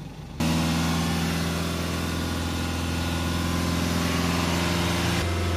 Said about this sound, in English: Now we'll use this pedal depressor to hold the revs on the vehicle.